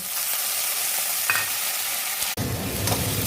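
Potatoes, onion and green chilli fry and get stirred in mustard oil, giving a steady close sizzle with a spatula scrape partway through and a louder burst of frying noise in the final second, with no voices.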